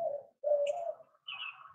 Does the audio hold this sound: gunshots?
no